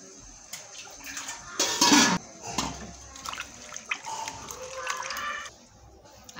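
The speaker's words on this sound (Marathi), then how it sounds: "आता मी स्वच्छ पाण्याने हे मासे धुवून घेतलेत" Fish rinsed in clean water in a kitchen: a short burst of splashing and running water near the start, followed by softer intermittent sloshing and dripping, close by, with some background noise.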